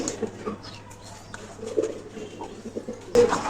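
Pigeons coo in a loft, low murmuring calls scattered through a quiet room, with a louder close burst near the end.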